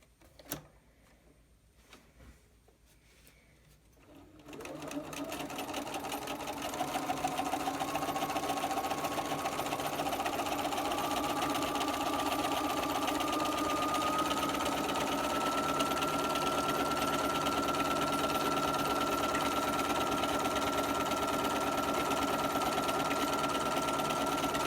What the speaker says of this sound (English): The first thing I'm going to do is just top stitch 1/8 of an inch away from what will be the top